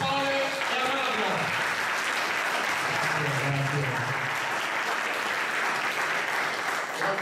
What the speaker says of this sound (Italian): Facciamo un applauso a Pasquale e a Mario.